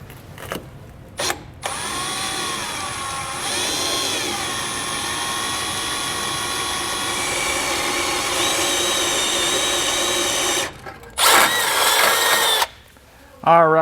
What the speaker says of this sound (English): So we're just going to use our hole saw, and we're going to drill this out.